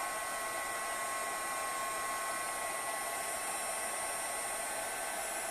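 A heat embossing tool warms up for card making, giving a steady, even blowing whir like a hair dryer, close and constant throughout without voices.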